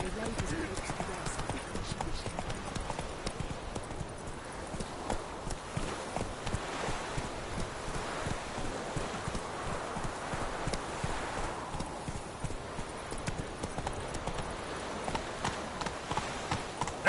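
Roach, a horse in the video game The Witcher 3, moves on with steady rhythmic hoof clip-clops, fairly faint and constant throughout, with talk heard over the hooves.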